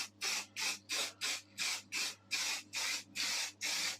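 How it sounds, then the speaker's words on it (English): Aerosol spray paint can blasting black paint onto rust on a mobility scooter, heard as about ten short, even hissing bursts in a steady rhythm, close and loud with no talk. "So I've got this spray paint here. We're just going to give this a little bit of a blast,"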